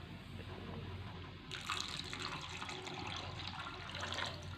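About two cups of water gush into a cooking pot of boiled peas for Kolkata-style ghugni, a steady pouring splash that starts abruptly and runs on, fairly close.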